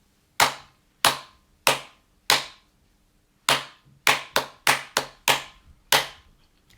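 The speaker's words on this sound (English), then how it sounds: "So then I would clap it to you." Hands clap a short rhythm in a music listening test: four evenly spaced claps, a pause, then a quicker group of about six sharp claps, close and clear with no talking.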